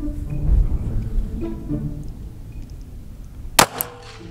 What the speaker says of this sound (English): You shot low.